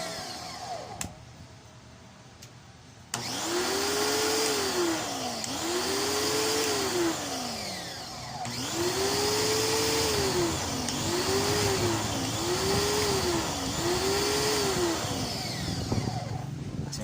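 A Kawasaki high-pressure washer motor starts up and runs steadily on test, a loud continuous drone whose pitch repeatedly rises and dips in arching surges, after a few seconds of quieter background with clicks before it kicks in.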